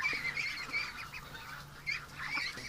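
Ducks in a straw-bedded pen near a feeder give a series of nasal honking calls, several overlapping bursts, fairly close over a soft background, with no talking.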